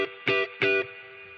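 Electric guitar played clean through an Electro-Harmonix Holy Grail reverb pedal set a little past noon, two sharp strummed chords each leaving a lush, sustained reverb tail that lingers and fades.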